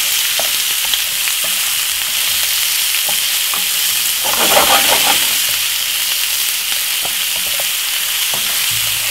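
Vegetables sauté in a frying pan at home, a steady bright sizzle with scraping stir strokes throughout and a louder burst of frying midway, close and continuous with no talking.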